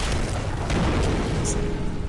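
An explosion in the video game Alan Wake: a dense, roaring blast with a rumbling low end fills the moment and holds steady throughout.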